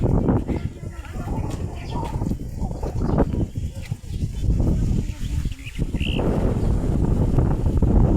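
Strong wind blowing outdoors on a walk to a farm, a constant loud rumbling buffet against the microphone throughout, with faint bird calls in the background.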